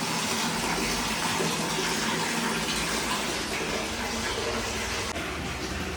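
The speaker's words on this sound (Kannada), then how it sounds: "ನೀರು ತುಂಬಿದಲ್ಲ ಹಂಗೆ ಸುರ್ಕೊಂಡು ಹೊರಟೋಗುತ್ತಲ್ಲ." Water gushes steadily as a household tub or drain fills and empties, a loud, broad, continuous rush with no break across the whole stretch.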